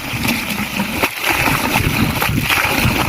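Water gushes and splashes steadily into a field irrigation channel, loud and close with a continuous turbulent rush.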